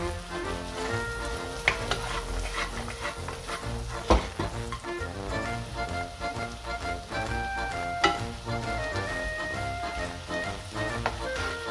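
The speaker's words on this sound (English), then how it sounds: "So we go in with the mushrooms which we sliced earlier." Sliced mushrooms sizzling in a pan with already-cooked shallots and garlic for creamy polenta, a steady close frying crackle that runs throughout with occasional sharper pops and stirring.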